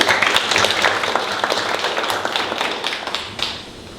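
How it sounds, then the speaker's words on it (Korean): Audience applause fills a public hearing hall in Incheon on maintenance standards for information and communication facilities: dense, steady clapping with sharp hand taps throughout, tapering slightly near the end. "우리 모두 감사의 의미로 박수를 부탁드립니다."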